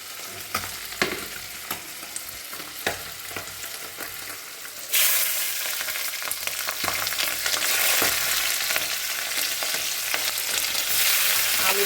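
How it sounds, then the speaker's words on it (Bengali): Kachki fish and onions frying together in a pan, with a continuous hissing sizzle that jumps louder partway through, along with occasional stirring clicks and scrapes. "আর মাছটা ওইদিকে ভাজা হোক।"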